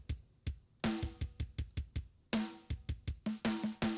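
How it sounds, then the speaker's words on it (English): A drum groove with parallel distortion on the kick and snare and EQ carving out built-up frequencies. Punchy, closely miked kick and snare hits land in a steady pattern, with gritty, ringing snare cracks and no voices. "And you can EQ into this distortion,"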